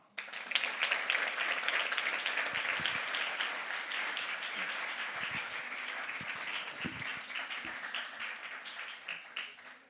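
A church congregation claps in praise at a worship service, sustained applause from many people that swells at the start and then holds steady before fading at the end, somewhat distant in the room.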